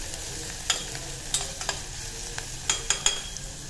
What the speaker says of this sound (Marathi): त्याच्यामध्ये आता सोडा टाकते, कांदे टाकते